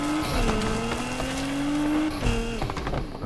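Ferrari Testarossa in Need for Speed Unbound, its engine droning loudly and steadily with a shifting pitch, tires squealing briefly, no voices.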